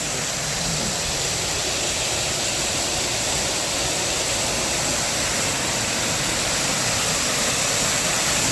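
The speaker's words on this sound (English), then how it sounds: "how the water is falling down into this pool" A waterfall at Yuen Long Town Park, held up by a gabion retaining wall, pours into an octagonal pool with a dense, even, loud roar that stays constant throughout.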